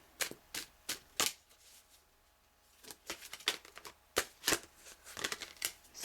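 Tarot cards are riffled and shuffled in a string of crisp, close flutters and snaps, with short pauses between bursts and no speech.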